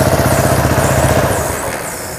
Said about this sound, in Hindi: और इंजन आप देख सकते हो ये चल रही है